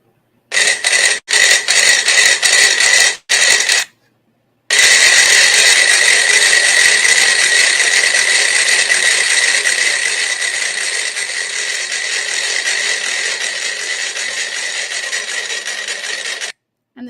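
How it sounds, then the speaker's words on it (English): Thirty-two metronomes tick out of sync, each at its own tempo, in a dense, steady clatter. The sound starts with a few stop-start bursts, then runs continuously and loudly, fading slightly toward the end. "what you heard was 32 metronomes all ticking at their own tempo at their natural period"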